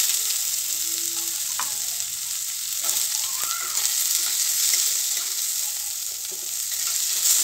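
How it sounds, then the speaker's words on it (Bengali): Whole garlic cloves and chopped onion fry in hot oil in a village kitchen, giving a steady, close sizzling hiss with a few faint stirring knocks and no talking. "সুন্দর করে লাল লাল করে ভেজে নেওয়া হয়ে যাবে তখন দিয়ে দেবো পেঁয়াজ কুচি"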